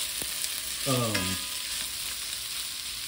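Food frying in organic extra virgin olive oil in a pot, a steady close-up sizzle and crackle with a brief stirring or scraping sound near the middle.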